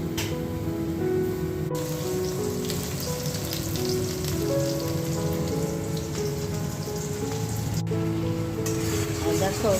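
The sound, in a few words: frying and sautéing potatoes, capsicum and spice paste in a wok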